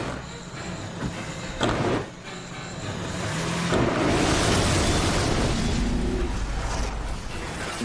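A flamethrower sets a stunt performer alight on a film set, giving a loud, sustained roaring whoosh that swells after an earlier thump and keeps rushing steadily for several seconds, with no talk.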